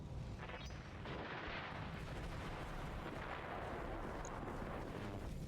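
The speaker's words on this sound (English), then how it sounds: "That sounds like an explosion." Explosions in a sci-fi shooter video game, a dense sustained rumble of booming blasts and gunfire filling the whole stretch at steady loudness, with no talking.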